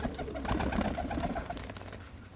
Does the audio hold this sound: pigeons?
yes